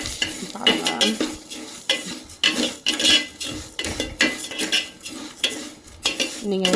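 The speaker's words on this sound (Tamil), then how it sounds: "நெய் ரொம்ப காஞ்சதுனால நான் உடனே சேமியாவையும் சேர்த்து போட்டுக்கிறேன்." Vermicelli fries in hot ghee for payasam while a metal spoon stirs and scrapes the pan in quick rhythmic strokes over a soft sizzle.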